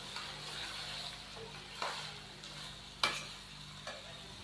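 Chicken sizzles with ginger-garlic paste in a pot for chicken qorma, a soft, steady frying hiss broken by a few sharp spatula clacks, the loudest near the middle.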